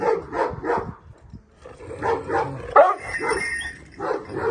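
A large Anatolian Malakli dog barks loudly and close, in a run of deep, repeated woofs with short pauses and a few yips.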